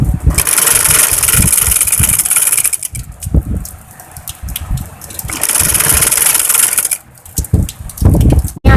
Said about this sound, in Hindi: हमने एक पैर की सिलाई लगा दी है।